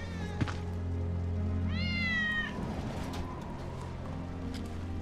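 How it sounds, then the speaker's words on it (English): Wedge's cat in Final Fantasy VII Remake gives one clear, fairly close meow with a rising then falling tone. It sounds over a steady game ambience and a short thump just before. "That's Wedge's cat."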